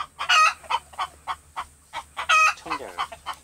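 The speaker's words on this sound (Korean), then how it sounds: "닭장에 스들어 사는 녀석들은 이 청개닭." Green-egg-laying chickens in a coop at a mountain countryside home, clucking in repeated short bursts, close and fairly loud, with a rising crow-like call near the end and no talk.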